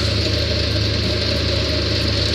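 Close and loud, a combine harvester's engine drones steadily while it strains under load in a wet, boggy rice paddy, a dense low rumble with a constant mechanical whine and no voices.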